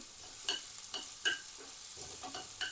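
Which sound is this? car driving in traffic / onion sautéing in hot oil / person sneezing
onion sautéing in hot oil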